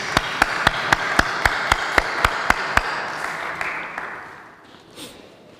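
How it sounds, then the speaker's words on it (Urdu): Applause at a Women's Day celebration in Amersfoort, Netherlands, a crowd clapping under sharp, evenly spaced loud claps close to the microphone, all fading out after about four seconds into room noise. "آپ کی بھرپور زوردار تالیوں میں"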